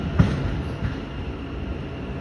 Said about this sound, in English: There's a Waitemata service, Southern Line train.